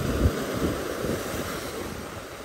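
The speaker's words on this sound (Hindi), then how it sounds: "विशाल समुंदर का पानी।" Sea waves surge onto Mangalore beach in a constant, fairly loud rush of surf with wind buffeting, and nobody speaks.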